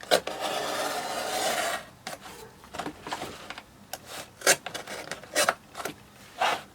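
A knife cuts through material while making seed pots, heard as a long rasping stroke followed by a series of short, sharp scraping cuts, close and moderately loud.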